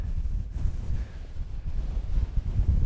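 Wind gusts across a high fell ridge in the Lake District, rumbling and buffeting the microphone in uneven surges with no voices.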